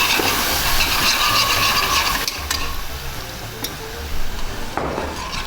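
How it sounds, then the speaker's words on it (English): Milk is whisked into a mixture in a bowl, giving a wet, sloshing stir with a brief clink of the whisk against the bowl. The scraping continues steadily, loud and close, with no talking. "I'm just gonna add my milk to it and I'm just gonna whisk it"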